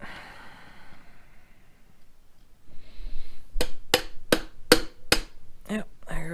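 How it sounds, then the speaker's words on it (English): About six sharp hammer taps on wood with a big hammer, evenly spaced and close, following a quiet stretch of faint room noise. "A little bit of wood and hit the stud. It's a big hammer."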